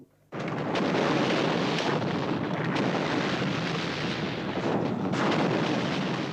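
Huge factory demolition explosion from a film stunt, a sudden roaring blast that sustains as a dense, loud rumble for several seconds.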